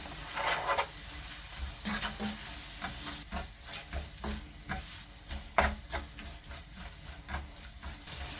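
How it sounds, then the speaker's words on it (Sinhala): Chicken masala rice sizzling steadily in a one-pot as a spoon stirs it, with repeated scraping clinks and soft rustling strokes at a close distance. "දැන් අපි මේක හොඳට කලවම් කරගන්න"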